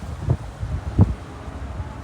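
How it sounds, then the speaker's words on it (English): Gusty wind buffets the microphone on a waterside boardwalk at a shopping district in North Myrtle Beach, South Carolina, with two stronger low rumbling gusts over a steady breezy background. "Pretty windy."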